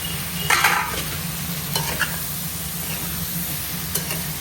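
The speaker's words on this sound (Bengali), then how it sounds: "এবার ঢেঁড়স আলুটা এর সঙ্গে দিয়ে দেবো।" Okra and potato hit a hot pan of oil in a Bengali kitchen and sizzle steadily, with a few louder spattering bursts and stirring scrapes over a constant frying hiss.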